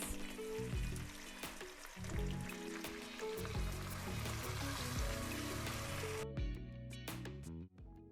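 Ground onion sizzles in hot oil for an eggplant curry made with tamarind and sugar, a loud, steady, close frying hiss running throughout with music underneath.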